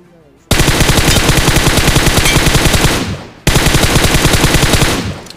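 Two long bursts of rapid automatic rifle fire in the battle royale game BGMI / PUBG, loud and close, each a steady rattle of shots lasting a few seconds, separated by a brief pause.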